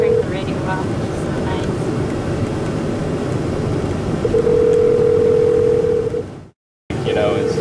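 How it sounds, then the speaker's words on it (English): A steady phone tone plays through the synced hands-free system of a 2011 Ford Fiesta, holding continuously over a low cabin hum before cutting out abruptly near the end. "you can dial through your car. It's synced up with my phone"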